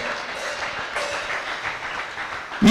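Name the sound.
applause in church congregation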